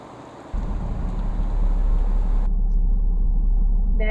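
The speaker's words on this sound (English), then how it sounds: "I'm gonna just pull forward so I line up and then just go straight back" A pickup truck engine rumbling low and loud as it pulls forward to line up with an RV, a steady heavy drone that swells after the first half second and continues without speech.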